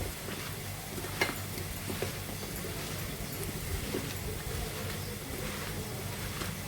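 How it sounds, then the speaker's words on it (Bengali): Food is mashed and mixed by hand with mustard oil, making soft, steady squishing and rubbing close by, with occasional faint knocks and no voices. "সরিষার তেল দিয়ে দিলাম ভালো করে চটকা মেখে নেব"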